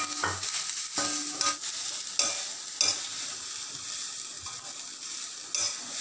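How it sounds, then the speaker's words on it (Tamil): Freshly grated coconut sautéing in a pan for a Chettinad white mutton kurma, a quiet continuous sizzle broken by repeated sharp spatula strokes against the pan, close and unaccompanied by speech. "பூவை திருவி அதையும் போட்டு வதக்கிடலாம்"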